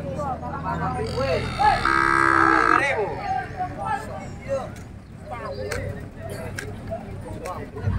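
A Bali cattle cow gives a long moo at a livestock market in Gorontalo, loud and fairly close, followed by people talking and general market noise.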